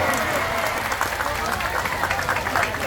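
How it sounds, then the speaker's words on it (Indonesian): An audience at an Islamic religious lecture in Zhongli, Taiwan, applauds with dense, continuous clapping, loud and steady, with crowd voices mixed in. "Berikan tepuk tangan, boleh."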